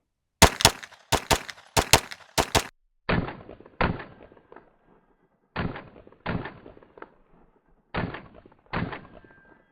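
A Sig P320 pistol fitted with a Brouwer M1823 steel grip fires about a dozen sharp, loud shots, first a quick run of close reports, then slower, spaced pairs with short echoes trailing each crack.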